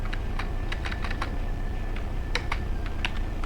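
Quick, irregular keystrokes on a computer keyboard clatter close by, in bursts of light taps and short pauses, with no talk.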